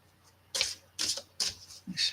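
Tarot cards are shuffled in four quick riffling bursts, close up, with faint sounds between them.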